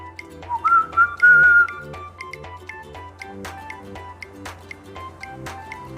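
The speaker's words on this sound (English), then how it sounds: "Whistle." Person whistling a short rising tune, a few clear, bright notes close by over light background music with soft plucky drips.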